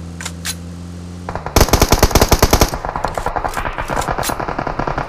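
Rapid automatic gunfire in the mobile shooter PUBG Mobile opens with a few scattered shots, then erupts into a loud sustained burst followed by a quicker, slightly softer string of rounds, with no talking.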